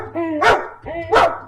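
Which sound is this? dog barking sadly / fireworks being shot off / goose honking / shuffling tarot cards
dog barking sadly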